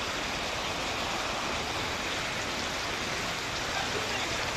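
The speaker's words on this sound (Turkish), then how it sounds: "İstanbul'da sabah saatlerinden itibaren sağanak yağış etkisini gösterdi" Heavy rain downpour in Istanbul, a dense, steady roar of falling water that stays even and unbroken throughout, with no voices standing out.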